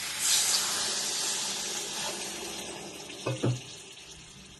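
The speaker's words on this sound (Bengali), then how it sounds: "এবার আমি জল অ্যাড করে দেব" Water pours steadily into a pan of fish curry masala made with tomato and potato, a continuous close hissing splash that tapers off, followed by a couple of brief knocks near the end, with no talking.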